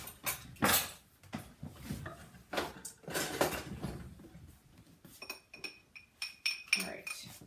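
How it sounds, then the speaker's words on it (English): A pastry brush stirs egg wash in a small dish for toaster strudels, making irregular light clinks and taps against the dish that sound close and fairly quiet. "I'm stirring it together with my brush, and brush them with the egg wash"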